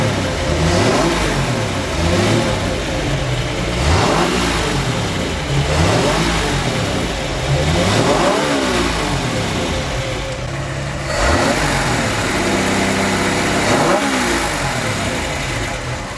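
An old abandoned boat's engine is revved in neutral, its roar rising and falling in repeated loud bursts, about six swells over sixteen seconds, steady and close throughout.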